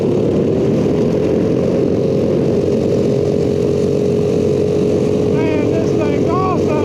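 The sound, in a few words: vintage go-kart engine running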